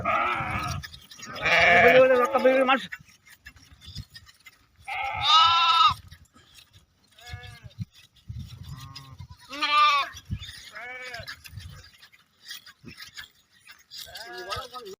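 Sheep from a herders' flock of about a thousand bleat loudly and close by in several separate calls, with quieter bleats and people talking in between.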